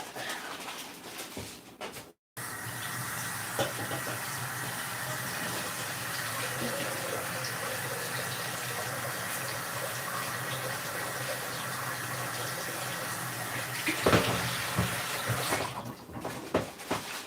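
Beans rinsed under a running kitchen tap: a steady, loud gush of water pouring into a sink or pot for over ten seconds, with brief handling noises before and after the flow.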